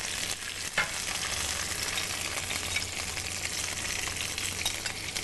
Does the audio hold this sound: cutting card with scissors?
no